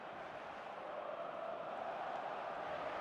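Stadium crowd noise in the eFootball PES 2025 video game, a steady, faint, even roar of many voices holding at one level throughout, with no distinct cheers or commentary.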